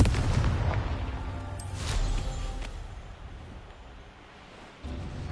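A blasting-spell explosion booms in a fantasy wizarding video game, a heavy low rumble that swells, eases off and then gives way to a second softer thump near the end, with no talk over it.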